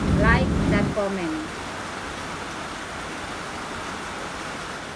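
Steady rain falls outside as a constant, even hiss, with a voice speaking briefly at the start before the rain carries on alone.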